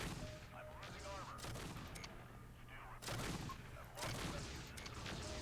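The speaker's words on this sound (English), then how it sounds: "Yeah, an ultra medium autocannon." Ultra medium autocannon in MechCommander 2, firing in rapid repeated bursts amid battle noise, faint overall with a voice talking underneath.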